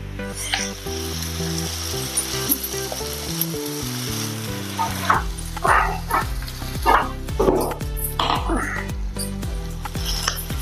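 Spice paste sizzling and crackling in a hot pan with stirring scrapes, under background music, and a dog barking a few times in the distance.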